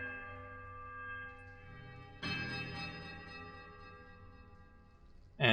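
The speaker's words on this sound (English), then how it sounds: "there's a quiet melodic chime from all three bells before the discordant voices meet in one powerful rising rush of sound" Temple bells in Pillars of Eternity ring out in layered, sustained metallic tones, quiet and melodic at first, then a louder struck chime swells in the middle, followed by a sudden bright, powerful rush of bell sound at the very end.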